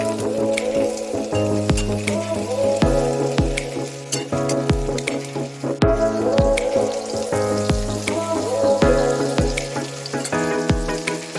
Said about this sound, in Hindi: उसके बाद डाला उसमें अंडा, इसको हल्का से फ्राई करूँगी